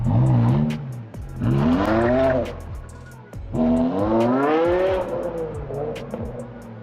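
A BMW M6 V10 engine with aftermarket mufflers revs hard several times, rising and falling in pitch with a deep, raspy exhaust tone, loud and close.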